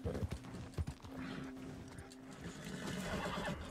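A horse in Red Dead Redemption 2 clip-clops and whinnies amid busy game noise, with rough hoof thuds early on and a steady rumble underneath.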